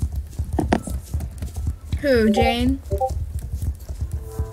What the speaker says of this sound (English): Gray horses are chasing me.